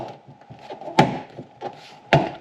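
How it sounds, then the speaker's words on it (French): A plastic trim panel is pried off a Tesla Model Y near the rear lights, giving two sharp, close clip pops about a second apart between soft rubbing and scraping. "je prends mon plastique, je vais tirer vers moi"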